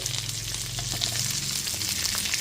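Capsicum and green chilies fry in a hot pan over high flame for gravy chili chicken, giving a steady, close, loud sizzle with a few light stirring scrapes and no talking.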